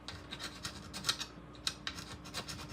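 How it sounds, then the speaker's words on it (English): A file rasps against a rough spot on a hard plastic 3D print in short, quick strokes, about a dozen scrapes in an uneven rhythm, close and fairly quiet. "So you can take a file"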